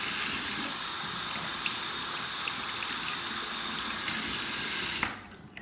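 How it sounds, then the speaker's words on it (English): Running tap water gushes steadily over an Omega 10066 boar shaving brush to rinse out the soap. A close, continuous splashing hiss cuts off sharply near the end, with no talking. "all I'm doing is I'm just rinsing it and just gently pulling that soap out"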